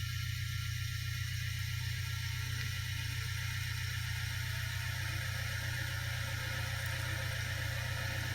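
A Vauxhall Vivaro van engine idles smoothly on all cylinders with a steady, even hum and a constant low rumble, heard close and alone with no voices.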